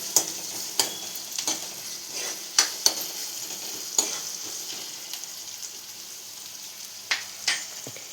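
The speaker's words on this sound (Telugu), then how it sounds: "ఇప్పుడు ఆనియన్స్ ఉడుకుతుంది కదా చూడండి" Onions cooking in oil in a pan for a puri curry, a soft faint sizzle broken by scattered sharp clicks and scrapes of stirring, with no voices.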